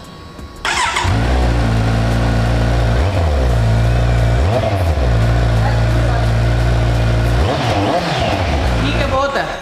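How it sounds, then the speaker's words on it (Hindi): A 2021 Kawasaki Z900 motorcycle with a full-system aftermarket exhaust fires up and idles loudly and close, its rumble broken by several sharp throttle blips, with people talking nearby. "और अब एक बार ही अजय स्टार्ट करके दिखा दे यार।"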